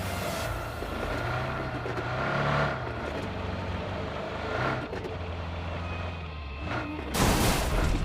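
A car engine in a first-person shooter video game drones steadily as the vehicle drives off, its pitch rising and falling through gear-like shifts, with a sharper burst of noise near the end and no talking.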